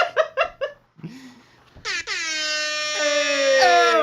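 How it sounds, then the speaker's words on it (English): A loud air horn sound effect blasts in about halfway through and holds as one long, steady, brassy tone to the end, after a few short, choppy vocal bursts and a brief pause. "Air horn fail."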